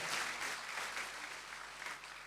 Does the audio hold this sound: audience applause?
yes